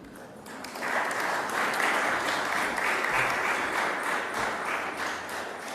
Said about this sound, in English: Thank you for that very tepid applause.